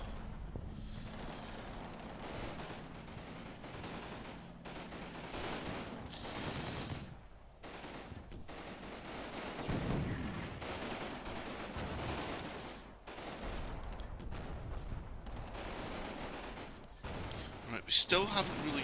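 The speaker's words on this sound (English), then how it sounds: "we're still taking fire on the bridge" Battlefield gunfire from Combat Mission: Battle for Normandy, a World War II strategy game, with bursts of small-arms and machine-gun fire crackling through the mix around a contested bridge, over continuous background noise and a voice.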